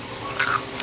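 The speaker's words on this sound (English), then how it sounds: "You'll hear the ASMR crunch." Someone bites into homemade fries with a single quick crisp crunch that sounds close to the mic, over a faint background hiss.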